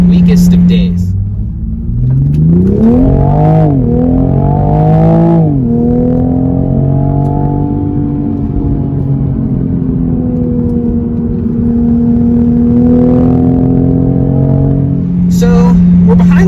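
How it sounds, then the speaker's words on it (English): A 2020 Toyota Supra is driven hard on back roads. Its engine climbs through quick revs, then holds a strong, sustained drone before easing and building again, close and loud. "So we're behind the wheel now, tearing it down some back roads"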